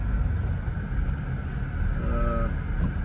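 A 1989 Porsche 911 Carrera coupe with the 5-speed G50 gearbox cruises on warm city streets, its steady engine and road rumble loud and close throughout, with a brief tonal whine partway through.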